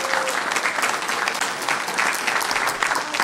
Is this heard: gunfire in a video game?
no